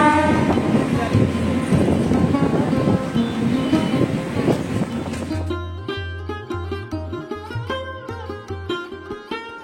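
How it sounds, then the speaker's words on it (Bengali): A local train pulls into a platform at a station on the Medinipur to Panskura line: a loud, broad rumble gives way to steady, rhythmic wheel clacks as the cars roll past close by. "মাইকে কিন্তু অ্যানাউন্স হচ্ছে 1 নম্বর প্ল্যাটফর্মে দিয়ে দিয়েছে ট্রেন।"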